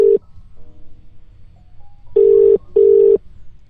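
A landline telephone handset during a call, with a short tone followed by two longer steady dialing tones, clear and close, separated by brief quiet gaps.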